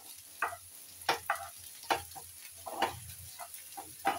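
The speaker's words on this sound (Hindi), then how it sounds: "प्याज को हम हल्का सा गोल्डन ब्राउन होने तक हम इसको भून लेंगे" Onions for a dal tadka sizzle in a pan while being fried toward golden brown, with a steady soft frying hiss and intermittent scraping stirs and clicks.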